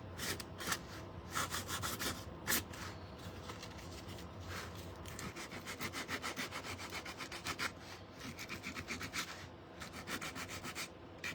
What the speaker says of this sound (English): I'm gonna go ahead and give this a little distressing on the edges.